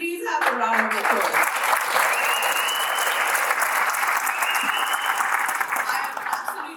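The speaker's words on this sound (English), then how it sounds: "If you could please have a round of applause." Conference audience at a national space conference plenary breaks into sustained applause, dense clapping rising quickly and holding before tapering, with a voice briefly heard at the start.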